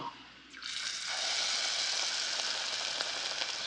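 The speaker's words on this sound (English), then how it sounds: "And then plop it in the frying oil." Battered elderberry flowers hit hot oil with a sudden crackle that swells into a steady, close, loud sizzle of frying.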